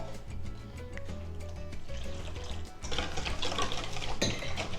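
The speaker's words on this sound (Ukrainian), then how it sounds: "Вливаємо тепленьке молочко." Warm milk is poured into a bowl of dough mixture with sour cream for a poppy seed roll. Soft clinks of kitchenware come first, then a brighter, fuller pouring wash fills the last couple of seconds.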